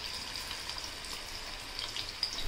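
Small crispy corn bhaji fritters frying in oil over a low gas flame give a steady, close sizzling hiss that holds even throughout, with faint crackles rising near the end.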